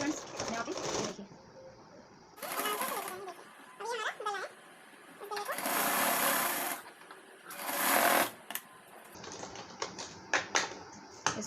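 Sewing machine stitching a folded seam on a designer blouse, loud whirring runs in several separate bursts between stretches of someone talking nearby, with small clicks and fabric handling in the gaps.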